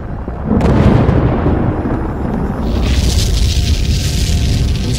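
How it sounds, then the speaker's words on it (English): A deep booming blast erupts from a volcanic cone after a brief quiet, followed by sustained rumbling roar and hissing debris, loud and powerful volcanic explosions. "Explosions rip from the cone, sending a hail of marble-sized debris miles into the sky."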